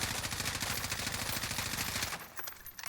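Rapid gunfire from a video game weapon aimed at a wall, a dense continuous stream of loud shots lasting about two seconds before cutting off abruptly.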